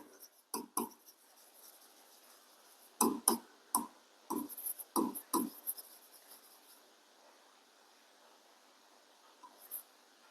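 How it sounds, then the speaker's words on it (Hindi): Chalk or marker strokes on a classroom board during an economics lesson: quick bursts of scratchy writing, a sparse pair early, then a denser run of six or so firm strokes, fairly close and clear with no talking. "यहां पे लिख देती हूं एडजस्टमेंट"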